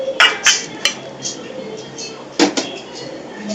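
Half a kilo of washed plums (aloo bukhara) tipped into a pot for mixed fruit chutney, giving a few sharp clattering knocks and clinks close by, in two brief bursts separated by a quieter pause.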